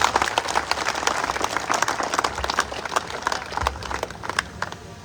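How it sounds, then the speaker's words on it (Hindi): Sustained crowd applause at a Jaipur University event, dense and continuous clapping from a large audience, loud and close, holding steady throughout without letting up. "आप सबसे गुजारिश करूंगा कि जोरदार तालियां आज के आयोजन के"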